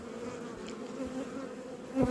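Honey bees buzz over a hive frame as a queen walks among them, a steady, close droning hum that swells briefly near the end, with no voices.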